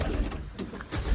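Racing pigeons at their loft give soft cooing calls, low and murmuring, over a steady outdoor background with no talking.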